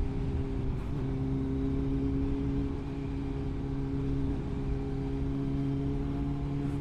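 A motorcycle rides through city traffic, with a steady engine drone and humming tones over low rumble, continuous and close throughout.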